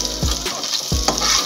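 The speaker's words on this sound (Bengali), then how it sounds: "পেঁয়াজটা ভালো করে ভেজে নিয়েছি," Onions frying in a pan make a close, steady sizzle, broken by two heavy stirring scrapes about half a second apart, with no talk.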